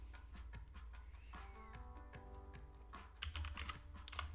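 Typing on a computer keyboard during a coding session, with a steady run of faint, quick key clicks that grow denser and a bit louder toward the end, alone with no speech.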